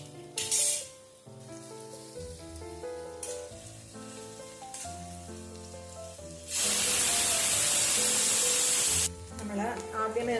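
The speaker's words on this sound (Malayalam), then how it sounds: "ഇനി നമുക്ക് സവാള ഇട്ട് വറുത്തെടുക്കാം." Onions hit oil on full flame for mutton biryani and erupt into a loud, steady sizzle that lasts a few seconds, after a stretch of background music that plays throughout.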